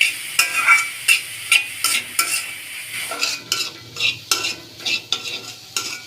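Spiced cauliflower filling fries in a pan, a steady close sizzle broken by a regular series of sharp scraping stirs of the spatula against the metal, with no voices.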